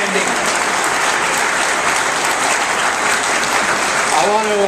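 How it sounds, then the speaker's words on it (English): Loud, sustained applause from a crowd at a disability rights celebration with the mayor present, continuous dense clapping, with a voice starting to speak near the end. "I just want to give a big round of applause to Susan"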